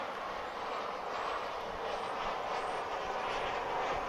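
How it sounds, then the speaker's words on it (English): An airplane at DFW Airport, a steady broad engine roar at moderate distance holding level throughout, with no voices. "Oh, we've got an aircraft."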